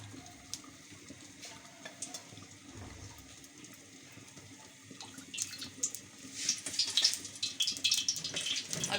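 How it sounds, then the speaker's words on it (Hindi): Oil is poured into a pan for tomato chutney, and a close, faint crackling sizzle builds and grows louder over the last few seconds, with no talking. "अच्छा, ये देखिए मैं तेल डाल रही हूँ।"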